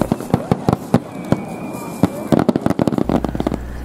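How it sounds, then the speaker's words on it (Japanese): Fireworks launched over the sea at the Kumano fireworks festival in Japan, a rapid series of sharp booming bursts and crackles at varied distances, with crowd voices murmuring underneath. "熊野の花火大会の花火の様子を"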